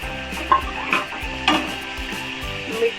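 A spoon stirs and scrapes soaked mung dal with turmeric in a pan during village-style cooking, giving repeated scraping strokes about every half second, close and alone with no talk.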